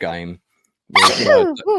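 A single short human sneeze bursts out close by between bits of conversation, with voices talking just before and after it.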